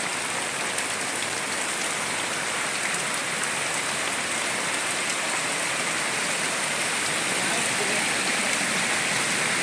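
Muddy floodwater pouring in from the highway into homes in Valanchery, Kerala, after daytime rain, a dense, unbroken rushing hiss that stays loud and even throughout.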